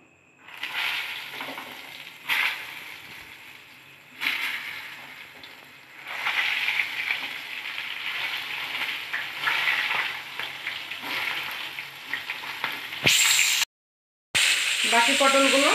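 Pieces of pointed gourd (potol) fry in a pan with a steady, close sizzle. Bursts of stirring come at intervals, and a brief gap falls near the end.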